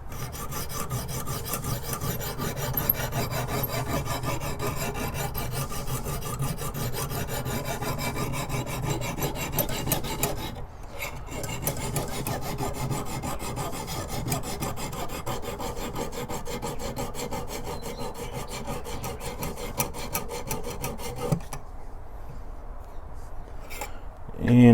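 A knife blade is drawn steadily across the coarse stone of a Lansky guided sharpening system, making a continuous gritty rasping that runs with short pauses near the middle and toward the end, close and fairly loud.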